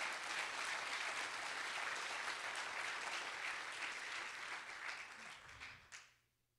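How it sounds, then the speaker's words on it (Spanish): A church congregation claps loudly during a Christian service, a dense, sustained wash of applause that holds steady and then tapers off and stops near the end. "Dele fuerte ese aplauso al Señor"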